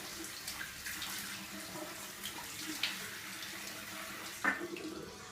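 Warm water runs from a tap during a traditional wet shave, a faint, steady stream with a brief splash near the end.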